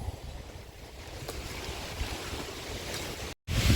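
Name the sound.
strong wind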